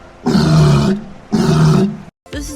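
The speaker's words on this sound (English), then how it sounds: "This is a walrus." A walrus bellows in two long, loud, roaring calls of about a second each, deep and grunting, with a short break between, then a third call begins near the end.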